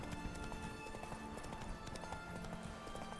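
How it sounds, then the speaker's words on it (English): Horse hooves gallop at speed in the video game Witcher 3, a dense run of rapid clip-clop beats over a steady hum of game background sound. "Whoa there, Roach."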